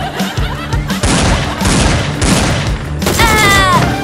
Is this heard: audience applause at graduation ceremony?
no